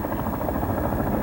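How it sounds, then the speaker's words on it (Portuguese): A helicopter arrives over the Iguaçu River bringing food supplies, its rotor making a loud, steady, close throbbing drone that fills the whole short stretch. "O helicóptero chega trazendo comida."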